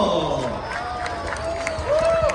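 Festival audience at a Philippine Christmas event clapping and cheering at moderate distance, a continuous patter of applause under scattered voices and a presenter speaking.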